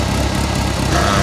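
A 1985 Merkur XR4Ti turbocharged engine runs steadily at idle, a close, continuous mid-range rumble with no break across the short stretch.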